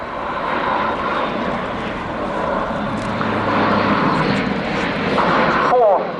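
A German Luftwaffe Airbus A400M turboprop, powered by Europrop TP400 engines, flies a tactical display at the RIAT airshow at Fairford, giving a loud, steady, broad engine roar that swells slightly toward the end before cutting off.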